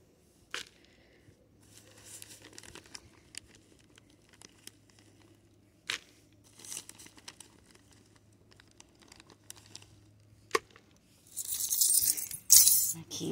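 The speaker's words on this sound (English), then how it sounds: "Let's get this soil open and get some in here." A plastic bag of potting soil is handled and opened: faint rustling and crinkling, a few sharp clicks and taps, then a louder burst of tearing and crinkling near the end.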